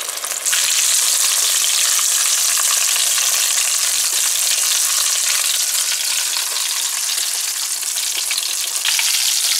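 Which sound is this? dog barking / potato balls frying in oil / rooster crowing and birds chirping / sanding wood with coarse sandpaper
potato balls frying in oil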